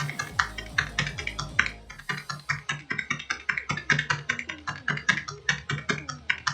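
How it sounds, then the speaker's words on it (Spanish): Rapid, steady typing on a computer keyboard, a dense run of crisp key clicks heard close and alone, briefly pausing before resuming at an even faster rhythm. "Ay, mi teclado, ¿qué le pasa hoy?"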